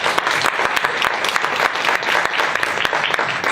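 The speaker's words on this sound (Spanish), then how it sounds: "Un aplauso también." A conference audience gives warm applause: dense, steady clapping from many hands, close and sustained throughout, with no speech over it.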